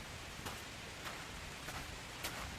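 Steady rain falls during a trek to Malayattoor Kurishumudi church, a faint even hiss with soft patters throughout and a few brief rustles.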